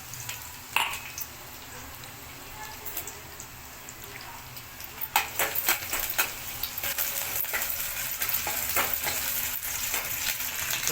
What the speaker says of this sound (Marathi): लसणाला मस्तपैकी फोडणी आली.